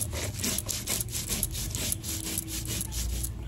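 Mustard seeds and green chillies are ground together on a stone, a rhythmic rasping scrape repeated in quick back-and-forth strokes, close and fairly loud, with no voices.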